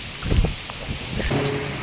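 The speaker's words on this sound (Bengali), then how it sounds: "বলতে বলতে বৃষ্টি চালু হয়ে গেছে" Rain beginning in a storm, a steady broad hiss of drops and wind-shaken foliage with a few thumping gusts near the microphone.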